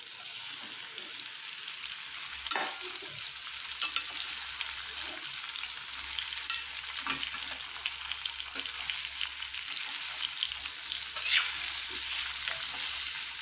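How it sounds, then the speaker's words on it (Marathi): Amla gooseberries sautéing in a pan for a spiced gooseberry pickle, giving a steady soft sizzle with occasional louder crackles and pops, close and continuous without any talking. "आवळे छान आपण परतून घेऊया"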